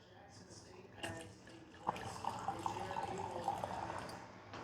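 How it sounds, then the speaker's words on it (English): Remy Martin Grand Cru cognac poured into a glass at home, a soft liquid trickle and splash lasting a few seconds, close and moderately quiet, with faint background voices. "Got my Remy glasses, give it a pour."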